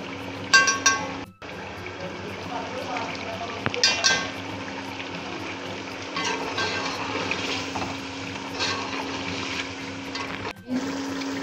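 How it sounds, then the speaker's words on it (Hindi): Chicken pieces sizzle and fry in masala in a pot for degi pulao, a steady crackling hiss with louder bursts as the pieces are stirred and turned, with no talking. "चिकन की सारी मसाले में डाल के मसाले के साथ भूनेंगे अच्छी तरह"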